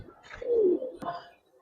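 Pigeons in a loft give a soft, close coo followed by a second shorter call, muffled and low over a quiet background, with no talking.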